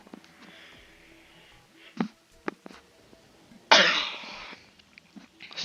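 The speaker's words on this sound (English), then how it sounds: "I had a cough real quick, got a tickle in the throat." A few short throat-clearing sounds followed by a single harsh, close cough from a tickle in the throat, then quiet breathing.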